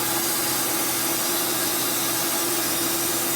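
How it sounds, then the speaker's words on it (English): A loud, continuous buzzing rasp of an electric Wood-Mizer LT40 sawmill cutting lumber, steady and close with no pauses or voices. "This electric sawing is really efficient compared to sawing with gas or diesel."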